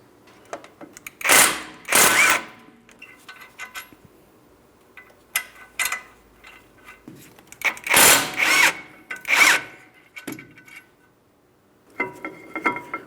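Power tool spinning out caliper bracket mounting bolts on a Ford Transit 250 rear brake, several loud whirring bursts of a few seconds each with quiet gaps between, close up.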